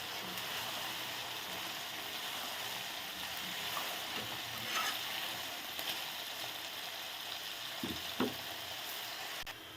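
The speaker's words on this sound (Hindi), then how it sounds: "ये दोनों सब्जियाँ हार्ड हैं तो सबसे पहले इनको फ्राई करेंगे" Peas and carrots sizzling in a pan as they fry, a steady hiss of oil lasting throughout with a few faint clinks and stirring touches.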